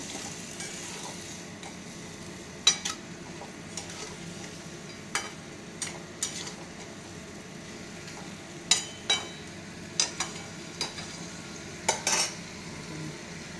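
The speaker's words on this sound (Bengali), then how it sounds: "মাছের সাথে একটু কষানো হবে" Fish sautés in a pan with a soft, continuous sizzle while a spatula scrapes and taps against the metal in scattered strokes, close and fairly quiet.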